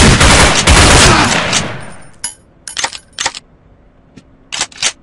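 Buckshot shotgun fire in the tactical shooter Sierra 7: a heavy, loud blast that rings and decays over about two seconds, then several short metallic clicks and clacks follow at close range.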